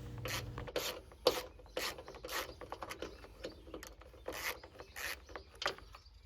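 Hex head bolts being loosened and removed from the deck guard of a Craftsman riding mower, a series of sharp metallic ratcheting rasps and clinks in short bursts, close and moderately loud with no talking.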